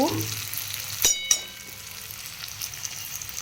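Asafoetida drops into hot oil in a pan for a pumpkin chhakka curry made with fried mung dal, giving a steady close sizzle with two sharp crackling bursts near the start and no voices.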